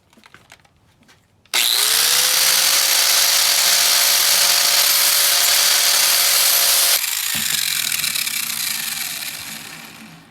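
A power tool grinds a mower blade to sharpen it. A sudden loud, high whine starts and runs steadily before dropping in pitch and winding down, with faint scraping beforehand.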